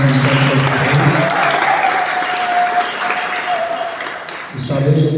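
A church congregation applauds and cheers loudly in a broad, sustained wash of clapping, with speech just before and after the applause.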